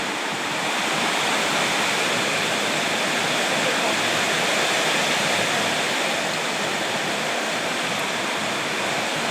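Heavy rain pours down during a rainstorm. It makes a dense, unbroken hiss that stays loud and close from start to finish.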